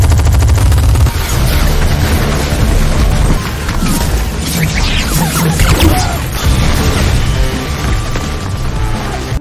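Gatling guns blaze inside an apartment block in a film action scene, a dense, loud, continuous roar of rapid gunfire layered with heavy booms and crashing debris that runs without pause.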